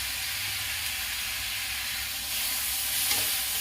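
Chopped tomatoes with half a spoon of salt frying over low heat in a pan, giving a steady close sizzle with soft hissing that swells slightly toward the end.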